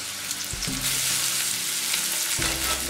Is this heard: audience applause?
no